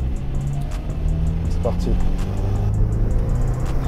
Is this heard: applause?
no